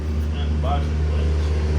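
Lawn care equipment runs outside a house, a steady low motor drone holding throughout at moderate distance, with a brief faint tonal whine in the middle.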